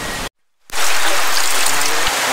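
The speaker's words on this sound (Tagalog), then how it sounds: "Pero bumuhos na yung ulan." Heavy rain pours down over a hammock tent camp during a low-pressure storm, a dense steady roar that cuts out for a moment and then returns loud and continuous.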